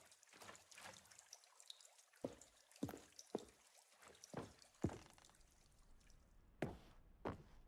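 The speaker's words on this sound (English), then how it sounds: "Yeah, water sounds!" Water in The Stanley Parable video game, sparse drips and splashes ringing out one by one at irregular intervals, fairly quiet with dark gaps between them.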